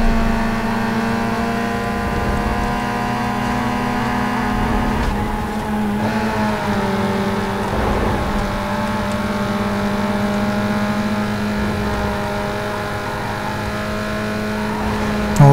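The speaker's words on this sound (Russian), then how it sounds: "После поворота на горку движок просто не хочет крутиться." A car engine in Need For Speed: Underground 2 straining after a turn up a hill, refusing to rev freely: a continuous droning, whining engine tone with small pitch shifts, steady and loud throughout.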